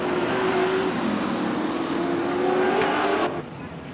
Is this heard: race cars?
yes